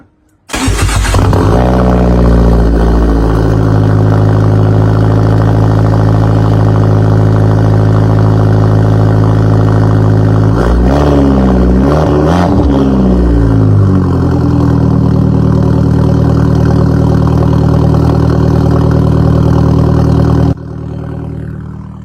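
Turbocharged car engine with a big turbo cold-starting, then settling into a loud, steady close-up idle with a brief wavering rise in the middle, running continuously until it drops off near the end.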